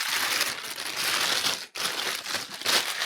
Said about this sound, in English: So I put the whole camera into the bag.